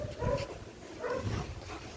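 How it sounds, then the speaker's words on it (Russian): Small dogs at home give soft whimpering, yipping barks in two short bursts about a second apart, moderately close and fairly quiet against a low background rumble. "Собачки."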